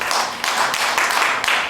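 A short burst of applause from a small audience at a lounge talk, with scattered, fairly close clapping that runs continuously for under two seconds.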